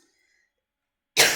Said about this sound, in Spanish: me ha dado un ataque de tos